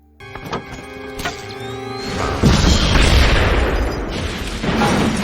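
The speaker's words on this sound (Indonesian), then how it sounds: "bom itu pun meledak" A few mechanical clunks and whirs, then a loud boom erupts into a sustained, roaring rumble that carries on to the end.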